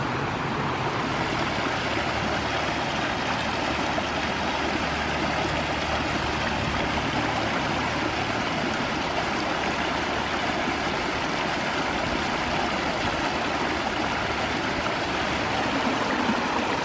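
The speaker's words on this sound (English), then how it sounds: "A little side stream coming down and crossing." A small unnamed side stream feeding Fagan Creek on a wooded Alabama spring trail, a steady close rushing and burbling of water that continues unbroken and fairly loud throughout.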